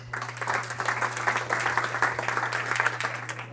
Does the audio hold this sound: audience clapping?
yes